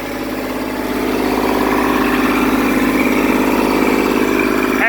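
A wood chipper, a WM-8H, runs hooked up to a Kubota tractor, giving a steady, loud mechanical drone with a low engine hum that holds constant and swells slightly after the first second, with no talking.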